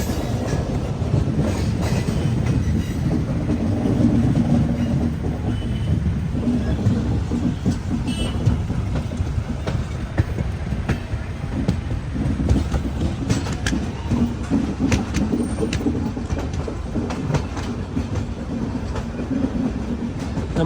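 Chhattisgarh Express running on an old ICF coach, heard from inside with a continuous rumbling roar and rhythmic clickety-clack of wheels over rail joints, steady throughout.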